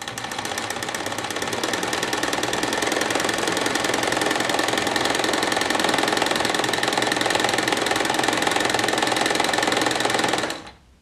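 A sewing machine runs a continuous edge stitch along the top of a fabric face mask, its rapid even needle clatter loud and close for about ten seconds before stopping abruptly.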